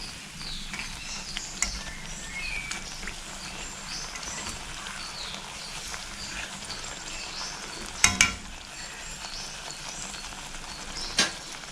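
Raw rice flour thattai fry in hot oil just after being flipped, a soft continuous bubbling sizzle with occasional sharp clicks and a few faint bird chirps in the background.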